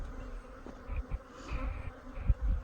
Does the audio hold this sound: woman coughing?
no